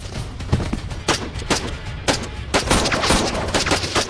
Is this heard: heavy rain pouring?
no